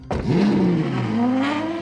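A sports car's engine revs up sharply and then holds a loud, rising drone, close by and alone without talk.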